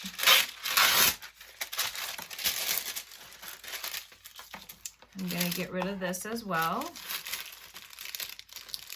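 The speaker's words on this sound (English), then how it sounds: "I'm going to take my sheet and I'm going to rip it." A sheet of drawing paper from a furniture-plan sketch is ripped apart by hand, giving close, crisp tearing and crinkling bursts mixed with paper handling while someone talks.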